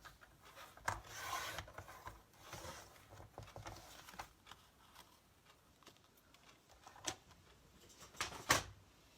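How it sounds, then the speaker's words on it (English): A paper trimmer blade slides along chipboard card stock, taking off a thin excess edge; close, quiet scraping and rasping strokes with a few sharp clicks near the end, no voices. "I'm going to just trim that on my trimmer and it'll take that little excess piece off where I didn't cut it exact"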